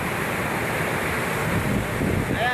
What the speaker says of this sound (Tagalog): Ito nakalalaking alon